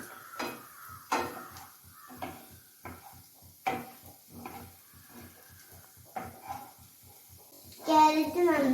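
A spoon stirs carrots in a pan for Yippee egg noodles with a regular series of light scraping clinks against the metal, fairly close, and a voice joins briefly near the end.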